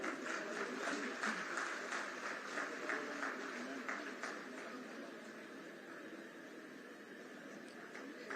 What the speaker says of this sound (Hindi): तालियां आपकी तरफ से